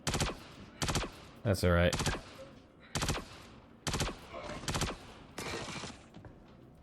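Bursts of automatic gunfire in the Star Citizen first-person shooter game, several loud rapid volleys spaced across the moment, with a brief spoken remark in between.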